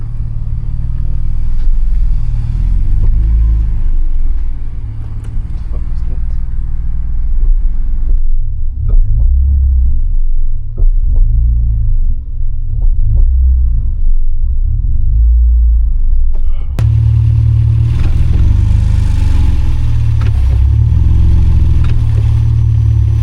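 A BMW E46 330Ci drag car with a welded differential idles roughly after starting, a deep, loud, close rumble that wavers unevenly before swelling into a fuller, louder roar near the end.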